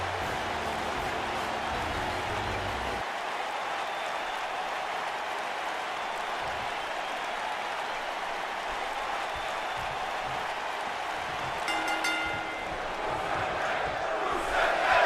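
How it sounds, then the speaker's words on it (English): A video game arena crowd in WWE 2K19 chants Rusev Day for the wrestler Rusev, a steady, dense roar of many voices that holds throughout and swells slightly near the end. "the crowd powering up Rusev with the Rusev Day chants"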